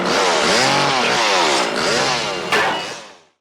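A chainsaw revs loudly with a whining, buzzing motor that rises and falls, surges once more near the end, then cuts off.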